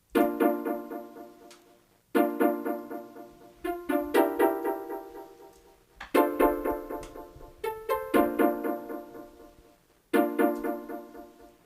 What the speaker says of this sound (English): Then I did a low cut EQ and a delay and a redux to